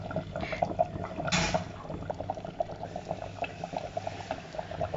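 Kerala-style mango pulissery, a curry of ripe mango, bubbles at a steady boil in a pot, with close, rhythmic blips and gurgles and a brief louder splash near the start.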